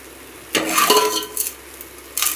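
Rock salt dry-roasting in a pan for masala powder crackles and scrapes in loud, short bursts, with quiet gaps between the stirs.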